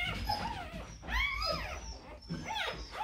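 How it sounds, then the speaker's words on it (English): One-week-old Springer Spaniel puppies whimpering close by in three rising, wavering bursts of high squeaky cries, with short pauses between them. "Look how noisy your puppies are."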